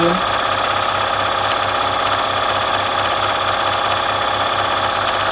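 A BERNINA 1130 sewing machine stitches fabric with a loud, steady, rapid mechanical chatter and a pulsing motor hum that runs unbroken throughout.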